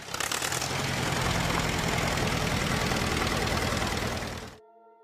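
An Allis-Chalmers WD45 tractor engine runs steadily, a loud, dense, rumbling drone with a knocking texture that holds for over four seconds before cutting off abruptly.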